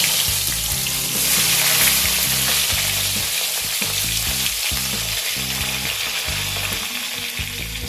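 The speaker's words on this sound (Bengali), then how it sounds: "এবার এই তেলের মধ্যে কেটে রাখা বেশ কিছু পটল ভেজে নেব।" Cut pointed gourd (potol) fries in hot oil, giving a loud, dense, steady sizzle and crackle that runs throughout, close up and with no talking.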